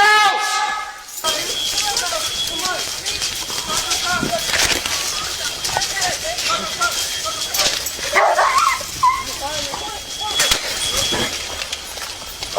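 A pup whimpers and yips with short barks in short bursts around a house, right after a door has been kicked in, while excited voices talk over it and footsteps shuffle nearby.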